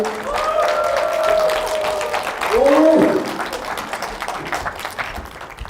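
Conference audience applauding as a math lecturer is welcomed to the stage, a moderate round of clapping that swells and fades, with background voices and some tonal sound mixed in.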